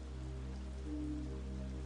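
Gentle rain falls in a steady, soft wash with a low rumbling hum underneath, constant and even with no voices.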